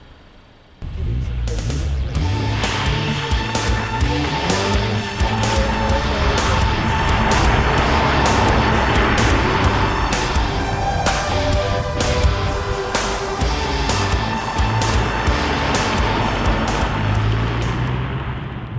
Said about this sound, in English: it's got a little bit of noise coming back from the wheels